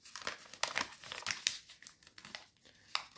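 A sheet of paper being folded for a paper bird model crinkles and crackles in close, irregular bursts, dry and fairly quiet, with no talking.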